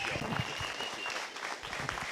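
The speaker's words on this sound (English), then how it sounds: "I urge you all to give him a big round of applause." Applause at a Quad Cities Marathon press conference, a soft, steady patter of clapping from a small audience, heard faintly and evenly throughout with some murmured voices beneath.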